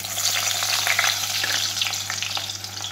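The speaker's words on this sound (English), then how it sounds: "So the oil is already preheated. First, we're going to add some onions." Onions frying in preheated oil for Jamaican tin mackerel, a steady loud crackling sizzle with stirring scrapes throughout, no voices.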